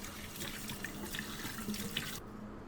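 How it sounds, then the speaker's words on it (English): A handheld vacuum's filter is rinsed under a running tap, giving a steady splashing, gurgling water stream that cuts off abruptly near the end, with no talking. "pull out the filter, and just run that through some water if you would like"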